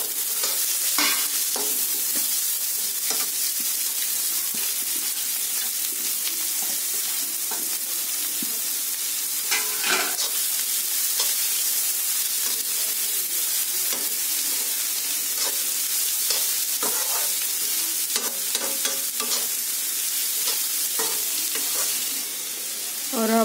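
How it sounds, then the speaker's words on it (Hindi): Onions and masala frying in a pan for bitter gourd sabzi, giving a loud, continuous close sizzle that runs throughout, dotted with frequent short scrapes and taps from stirring. "दो ये प्याज और मसाला फ्राई हो जाएगा इसमें"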